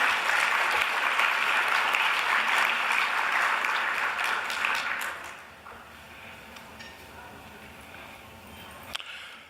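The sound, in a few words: audience applause at scholarship luncheon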